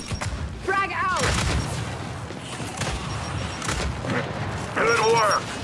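A frag grenade blast in the Gears 5 Horde Frenzy mode on the Atrium map, with broad booming bursts amid steady gunfire, and shouted game callouts at the start and near the end.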